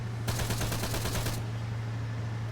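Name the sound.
rocket launcher and gunfire in an Arma 3 video game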